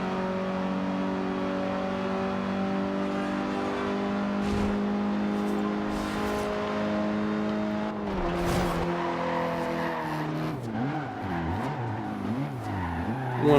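A car in Forza Horizon 2 races with a steady engine drone, then its tires squeal and skid under hard braking, wavering as the car squirms, all loud and close.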